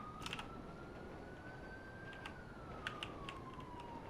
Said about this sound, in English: Man, I love that siren. It sounds so good.